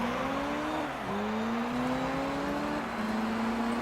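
Mazda RX8 racing in Gran Turismo 3, a steady loud engine drone with rising and falling pitch as the car shifts gears through the race, continuous throughout with no talk.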